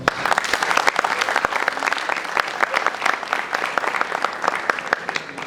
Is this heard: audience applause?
yes